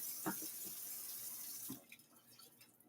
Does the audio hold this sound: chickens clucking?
no